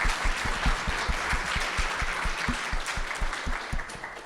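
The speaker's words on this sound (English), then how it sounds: "We'll give him a round of applause" A conference audience applauds after a talk, a steady burst of many hands clapping for a few seconds with no voices over it.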